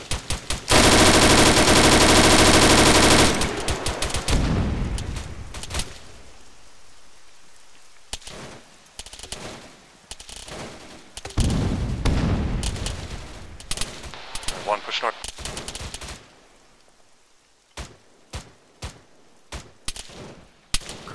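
Gunfire through house windows in the military video game Arma 3: a long loud sustained burst at the start, then scattered sharp shots and bursts of varying loudness with quieter gaps between.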